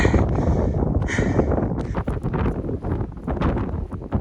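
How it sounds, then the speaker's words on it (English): Strong wind on a mountain ridge buffets the microphone in heavy, uneven gusts, roaring and rumbling close up throughout. "Hopefully you can hear me over this wind."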